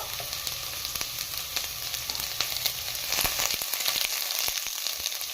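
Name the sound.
onions frying in oil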